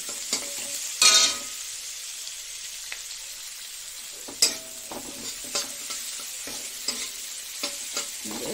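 Onions frying in a pan without added oil for an eggplant dish with poppy and sesame paste, a soft steady sizzle broken by occasional scraping knocks of a stirring spoon, close up with no voices.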